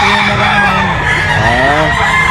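A Grey Hat gamecock, a banded rooster at a farm, crows and clucks close by, a drawn-out crow rising in the middle against a steady din of other fowl.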